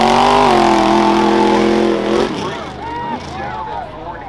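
A 2012 Ford Raptor four-wheel-drive truck in a rough truck modified class at the Hartford Fair, engine roaring loud and steady at high revs, then dropping into a rougher, wavering growl with a crowd announcer talking over it.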